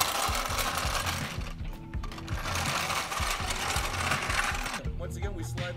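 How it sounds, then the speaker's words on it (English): A hydraulic floor jack pumped under a car's frame to lift it for a flat tire change, giving a loud, continuous rhythmic mechanical clatter with repeated metallic strokes, alone and close. "close the valve by turning clockwise, and then we just rip the jack, and then we just let the jack do the work"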